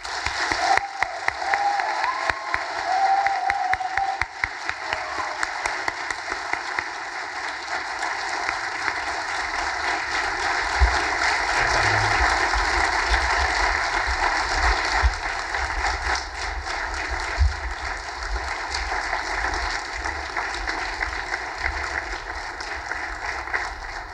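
A convocation audience claps steadily for seniors returning to their seats, a sustained wash of applause from a large crowd that lasts the whole stretch, swelling slightly around the middle before easing.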